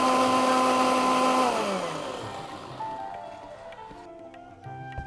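An electric blender whirs loudly and steadily while blending ingredients for an iftar dish, its motor pitch sliding down as it winds down, leaving fainter kitchen noise behind.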